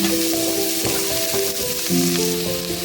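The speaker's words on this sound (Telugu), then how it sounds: "ఇప్పుడు కరివేపాకు వేసుకుందాం, ఫ్రై చేసుకోవాలి." Curry leaves fry in hot oil for a dal tadka, giving a loud, continuous sizzle with crackling bursts and brief stirring noises close by.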